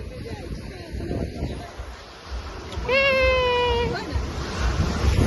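Large ocean waves wash onto a shore in a steady broadband roar, with people talking over it and a brief high, wavering cry rising partway through.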